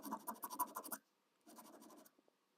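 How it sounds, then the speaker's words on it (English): A jeweler's saw cutting through silver wire, quick rhythmic rasping strokes in a close burst, a short pause, then a softer second run of strokes. "I'm going to just cut this using the saw"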